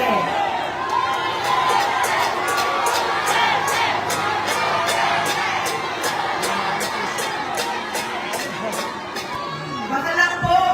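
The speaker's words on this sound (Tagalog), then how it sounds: "Ang sigaw ng mga tao ay Duterte." Large crowd at a political rally in Manila chanting and shouting Duterte, a dense continuous roar of many voices with rhythmic chant bursts, loud and sustained throughout.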